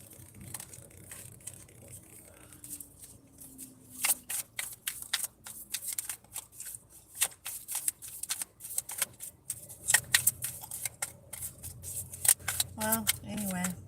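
A deck of cards being shuffled and cut, giving bursts of crisp riffling clicks and flutters that come in rapid clusters at close range, with quieter rustling between them.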